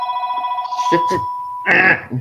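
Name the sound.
mobile phone ringing with a blocked incoming call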